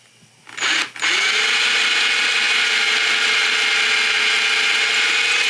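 A small power drill fitted with a bit one size up from 3/32 spins up after a brief click and start, then whines steadily and loudly on its own while boring into a sculpture.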